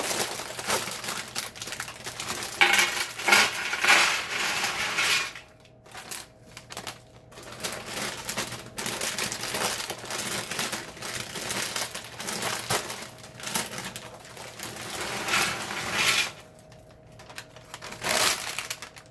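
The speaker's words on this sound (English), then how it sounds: "I'm going to add 2 1-pound bag of mini twist Clancy pretzels." Two one-pound bags of mini twist pretzels tipped into a baking pan or bowl in a home kitchen, a continuous busy crinkle of plastic bags and rattling pretzels with brief pauses, close and fairly loud, with no talking.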